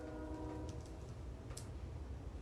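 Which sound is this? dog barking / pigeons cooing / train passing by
train passing by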